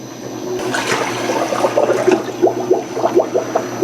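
Water runs into a GSEICE soft serve ice cream machine during its wash cycle, a steady trickling and splashing fill with gurgling bursts that grow more distinct toward the end, heard close up without talk.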